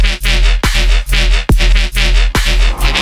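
A heavy electronic bass track made in FL Studio: loud, pitch-dropping kick and bass hits pounding in a steady rhythm, with no other sound.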